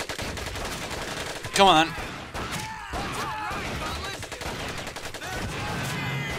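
Gunfire during a banzai charge in Medal of Honor: Pacific Assault, with bursts of shots and a loud crack, soldiers' shouts and battle noise throughout, and a player speaking briefly over it.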